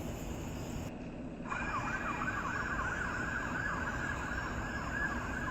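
Police car siren wailing with a rapid, warbling electronic tone that cuts in after a brief pause and holds steady, fairly loud over low road rumble.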